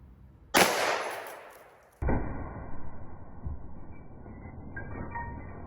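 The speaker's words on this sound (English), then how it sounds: "Those were some pretty explosive shots." A sharp gunshot crack aimed at old trinkets, followed by a decaying burst of noise, then a second abrupt blast that trails off into a long ringing tail with faint rattling debris, no talk.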